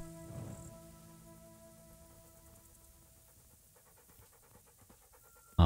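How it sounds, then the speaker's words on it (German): A dog pants rhythmically in the Kingdom Come Deliverance video game, quick close breaths over a faint musical backdrop, ending with a brief loud burst. "Oh, Köter ist da."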